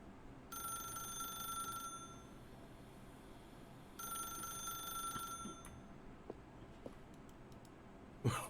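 A telephone rings in The Stanley Parable video game, two long electronic ring bursts separated by a pause, moderately loud and alone, followed by a few faint clicks and a thump.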